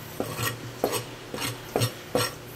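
Sisig with red onion and calamansi juice is stirred in a pan, five rhythmic scraping strokes with utensil clacks against the pan over a faint sizzle.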